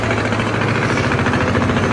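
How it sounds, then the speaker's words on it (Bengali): A trawler's engine on a river, setting out to catch a departing passenger launch, heard as a loud, steady chugging drone with an even low pulse throughout. "দর্শক দেখতে পাচ্ছেন এইদিকে ছেড়ে দেওয়া লঞ্চকে ধরতে যাচ্ছে ট্রলার"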